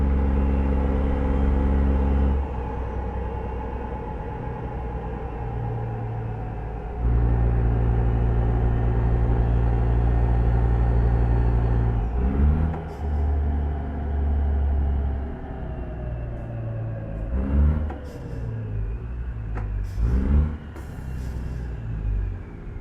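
A Peterbilt truck engine driving in American Truck Simulator, a steady deep drone with slow pitch shifts as it runs and changes gear, close and continuous with no talk.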